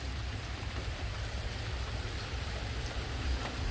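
Steady rain falls on a rainy day outdoors, a dense, even patter with no breaks and no voices over it.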